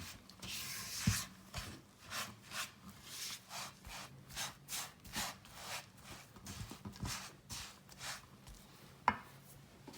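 A spatula stirs a thick Nanaimo bar base mixture in a bowl, making soft, regular scraping strokes close by at an even pace, with a couple of sharper knocks.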